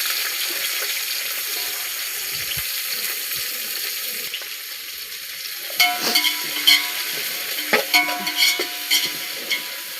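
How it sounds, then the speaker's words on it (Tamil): Onions fry in a pan for chicken dum biryani, a faint steady sizzle at first, then stirring clatter and scraping taps in the pan grow louder and more frequent. "வெங்காயம் நல்லா வதங்கட்டும்,"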